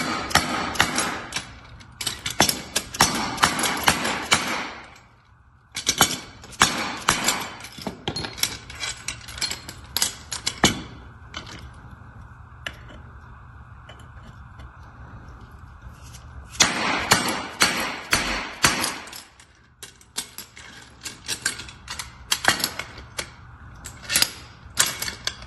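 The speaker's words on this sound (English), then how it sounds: "tap these new bushings into the Singletree top and bottom. It's important to use a dead blow or a rubber mallet to do this" A dead blow or rubber mallet tapping new bushings into a singletree against a piece of wood, in bursts of rapid, close, sharp knocks separated by quieter pauses.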